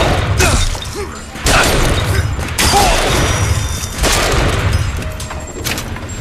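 A volley gun fires in BioShock Infinite with several loud, booming blasts spaced about a second apart, each followed by a mechanical rattle and a decaying echo.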